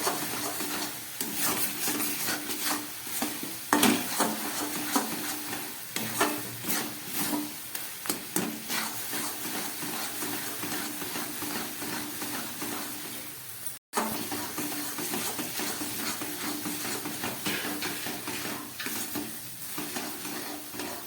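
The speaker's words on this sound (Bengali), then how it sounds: "নারকেল পুরটা যত ভাজা হবে তত স্বাদ হবে" Coconut filling for pitha frying in a pan, a steady close sizzle overlaid with repeated scraping stirs, a brief gap partway through before the stirring and hiss resume.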